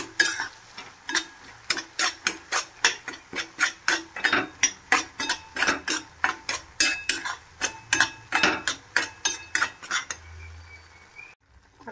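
Semolina being stirred as it roasts in a pan, a metal spoon scraping and clinking against the pan in a steady, brisk rhythm of roughly two strokes a second for about ten seconds before stopping, with no talk.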